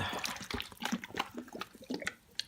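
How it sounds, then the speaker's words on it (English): Water poured onto germinating seeds in an indoor grow rack, a quiet uneven patter of splashes and trickles landing on the growing surface in irregular bursts. "pouring some water on it."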